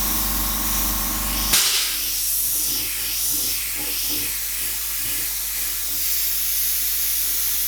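An airbrush lays an overall mist of paint with a steady, close, soft hiss of spraying air that runs on without a break after a brief click at the start.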